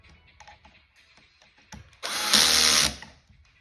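A drill drives a screw through a Kreg pocket-hole jig into wood while building a kids' table, one steady whirring burst of about a second after a few soft clicks and handling knocks.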